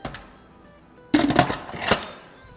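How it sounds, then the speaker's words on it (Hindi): An electric pressure cooker being set to pressure mode and its timer adjusted, heard as a faint click followed by a burst of quick plastic button presses and clattering taps close to the microphone. "प्रेशर कुक का मोड ऑन करते हैं और इसको टाइमर सेट करते हैं 45 मिनट्स"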